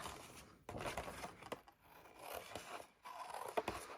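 Small scissors snip and scrape through paper in several short, uneven cuts, close up and quiet, with no talking.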